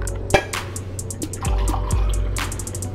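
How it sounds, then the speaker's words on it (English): Coffee is poured into an old blender, a liquid splashing and trickling with a few sharp drips and clinks, close and fairly loud. "I'm gonna go ahead and pour it in this old blender here."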